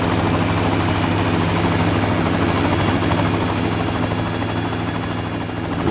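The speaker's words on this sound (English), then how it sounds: "a fleet of 3 Llama helicopters take to the air." Three Llama helicopters fly close by, their rotors and engines making a loud, steady, throbbing roar that never lets up, with no voices.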